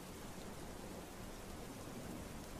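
Heavy downpour in Bhiloda, Aravalli, a dense, even hiss of rain running steadily and fairly faint, with no voices.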